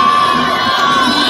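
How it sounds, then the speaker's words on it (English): A large crowd at an outdoor gay pride march cheering and shouting loudly, children's voices among the continuous roar, close and sustained throughout. "Look at this, and they're all cheering them on."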